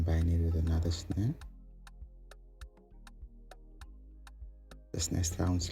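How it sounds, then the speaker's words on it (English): Layered snare drum sample, two snares stacked in an Afrobeat beat built in FL Studio, struck in a steady run of sharp, evenly spaced hits over a low tone, with someone talking before and after. "I then combine it with another snare."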